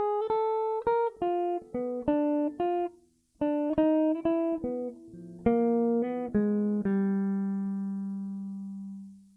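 Clean electric guitar picks out a blues phrase of distinct plucked notes in uneven rhythm, with a short pause midway and a final low note left ringing out, played alone and close.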